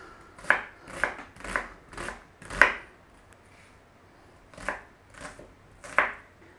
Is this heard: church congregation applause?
no